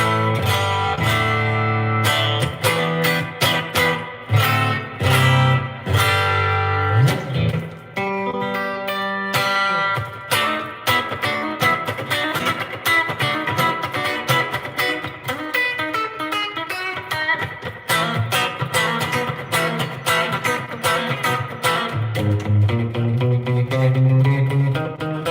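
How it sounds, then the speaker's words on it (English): A new electric guitar played with a clean tone, a little reverb and slapback echo, picking a steady melodic run of notes and chords that continues for about twenty-five seconds with no talking. "That's just a clean sound with a little bit of reverb and slapback."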